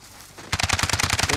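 Rapid automatic gunfire in the video game Call of Duty: Modern Warfare, a quick burst of about ten loud, evenly spaced shots beginning after a brief quiet lead-in.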